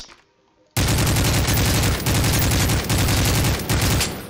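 Sustained rapid gunfire from guns in a video game shooting at Siren Head, loud continuous bursts that begin abruptly after a quiet start and run to the end.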